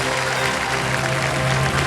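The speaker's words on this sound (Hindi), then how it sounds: "बजा दीजिए ताली।" A studio audience on the quiz show Kaun Banega Crorepati claps steadily in dense, continuous applause. The sound is loud and sustained, and no other sound stands out.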